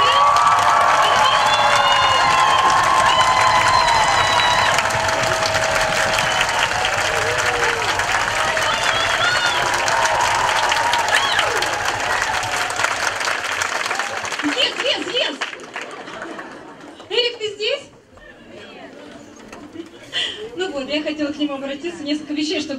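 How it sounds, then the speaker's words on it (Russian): A loud, sustained wave of applause and cheering rises from an event audience, then thins out after about fifteen seconds into scattered clapping and crowd murmur with voices. "Давайте вашими аплодисментами покажем, насколько вам нравится это мероприятие"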